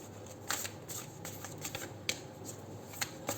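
A Moonology oracle card deck being shuffled up close, soft riffling with several crisp slaps, fairly quiet with no one talking.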